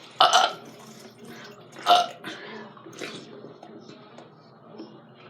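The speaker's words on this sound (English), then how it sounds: "All we're supposed to do is burp." People deliberately burping after drinking, with a couple of loud close belches and several softer ones spread out at irregular intervals, and no talk between them.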